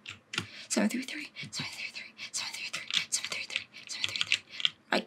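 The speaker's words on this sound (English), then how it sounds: "My keyboard. I'm like pressing the wrong keys and stuff." Quick, uneven bursts of clicking on a computer keyboard come from close by, mixed with soft whispering.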